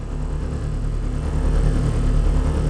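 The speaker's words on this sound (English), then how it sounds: "The sound of the engine came from recording all three intensities of a handheld electronic massager" The engine of the Grenade Golem in a video game, made from a handheld electronic massager, a loud continuous low motor drone with a steady pulsing rumble that swells slightly in intensity, with no voices.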